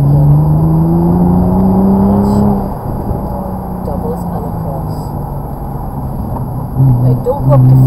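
A Nissan GT-R engine pulls hard on a track, a loud close in-car drone with rising tones easing off midway then surging again, while people talk over it.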